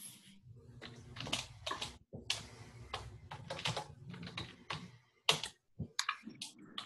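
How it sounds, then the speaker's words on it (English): Quick bursts of keyboard typing during a Zoom call, clattering keys in uneven runs with short pauses, fairly close and moderately quiet, with no one speaking. "If you're typing, I can hear you, just FYI."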